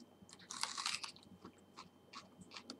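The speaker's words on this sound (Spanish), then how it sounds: "Otro mordisco." Raw onion being bitten and chewed: a loud crunchy bite up close, followed by several wet, crisp chewing crunches in an uneven rhythm, with no talking.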